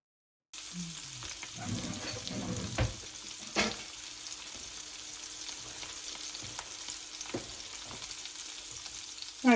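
Meat fries in a fry pan with a soft, steady hiss that runs throughout, punctuated by a few brief clatters and scrapes, heard close but fairly quiet.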